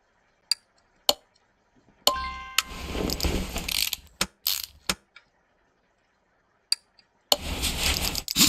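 Tool work on a brake caliper in Car Mechanic Simulator 2018: isolated mechanical clicks and ratchet-like taps, then a few seconds of dense metallic clattering, more sharp clicks and a final burst of busy mechanical noise, all close with no talk.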